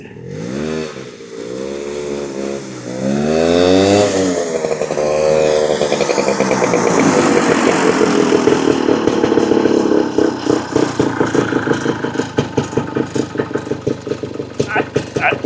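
A vintage Ski Daddler snowmobile engine that needs a carburetor cleaning runs loud and close, rising and falling through revs before settling into a fast, uneven putter, with voices talking over it.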